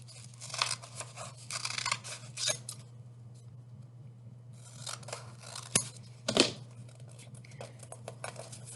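Scissors snip through paper pages, cutting them into squares: quiet, close crisp cuts and rustling come in bursts, with a pause in the middle and a steady low hum underneath.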